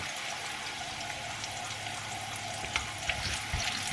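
Food fries in oil with a steady close sizzle and crackle, joined near the end by a few soft knocks and stirring sounds.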